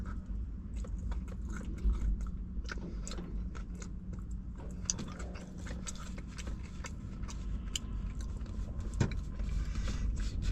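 Steady chewing and biting on a Sonic peanut butter bacon cheeseburger, close and moist with soft crunches throughout, eaten alone without talk.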